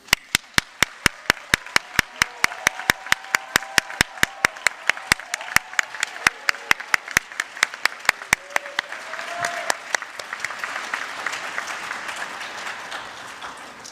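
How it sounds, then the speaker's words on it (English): Graduation-ceremony applause for 2021 nursing graduates: sharp, evenly spaced claps ring out close at first, then a softer crowd wash of clapping builds and lingers toward the end. "will you all please join me in giving a round of applause to our"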